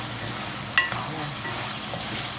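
A potato mixture sautés in a hot pan with a steady, soft sizzle and one sharp scrape of a utensil near the start, close and moderately quiet, with no voices.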